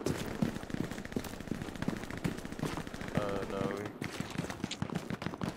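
Bursts of machine-gun fire crackle in the Hell Let Loose video game, rapid and repeated through the whole stretch, some near and some more distant, over a busy battlefield bed with occasional talk.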